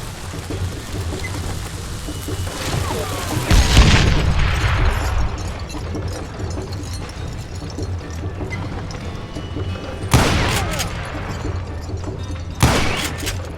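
Gunfire in Call of Juarez: Gunslinger, with a heavy booming shot near the start and two more sharp blasts later, each trailing a low rumble, over continuous game ambience.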